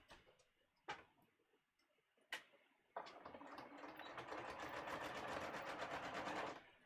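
A sewing machine stitches knit fabric, starting after a few sharp clicks and then running as a fast, steady mechanical chatter for several seconds before stopping, close and alone.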